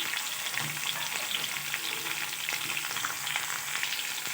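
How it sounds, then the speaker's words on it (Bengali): Chopped potato pieces frying with drumstick vegetable in a pan, a steady dense sizzle with faint stirring scrapes, close and continuous, no voices. "এবার আমি দিয়ে দেবো কুচি করে রাখা আলুর টুকরোগুলো"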